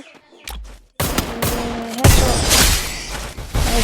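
Rapid bursts of gunfire from a shooting video game, loud and close, with sharp shots and a short burst of automatic fire over a few seconds.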